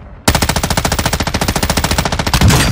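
Rapid automatic gunfire in a military video game, a loud, close burst of evenly spaced shots that starts abruptly after a brief quiet moment and runs continuously, ending in a heavier blast.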